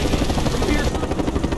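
An enemy helicopter in the video game Mercenaries 2 thumps with a continuous, fairly close rotor chop, with faint gunfire-like crackles mixed into the busy battle noise.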